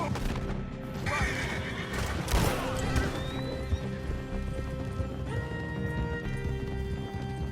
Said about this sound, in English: Gosh, this is a big horse.